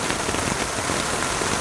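Heavy rain pounds the canvas of a tipi hot tent at a riverside camp, a dense, loud, unbroken roar of drops drumming close overhead with no gaps and no voices.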